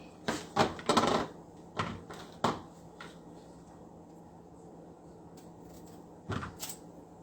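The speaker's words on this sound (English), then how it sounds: "I'll go ahead and cut the vegetables right here" A knife cutting peppers on a board, with a quick burst of sharp chopping taps followed by a few scattered cuts, a long quiet pause, then another short cluster of chops.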